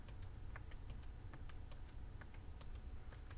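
Numbers are keyed into a calculator keypad one after another as soft, quick clicking taps, faint against a low steady background hum.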